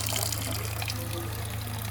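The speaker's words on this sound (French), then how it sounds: "le robinet du lavoir." Water runs steadily from the tap of a wash basin, a continuous close splashing stream over a low constant hum, with no talking.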